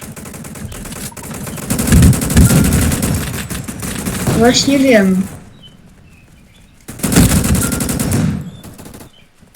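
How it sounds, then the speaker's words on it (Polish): A new weapon in Roblox Gunfight Arena fires in two loud, rapid automatic bursts, each lasting a few seconds, separated by a brief lull; a voice speaks briefly between them. "Dobra, strzelam moją nową bronią."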